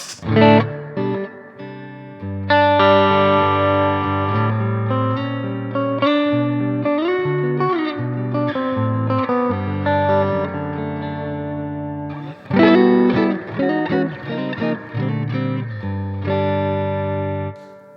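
A Stone Deaf SD-30 amp head's spring reverb: a guitar plays chords and single notes drenched in old-school spring reverb, with lingering splashy tails after each strum; loud and close, no voices.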